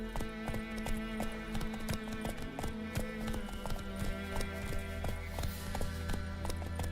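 Roach, Geralt's horse in The Witcher 3, clip-clops along with a brisk, regular rhythm of close hoofbeats over a low game music bed.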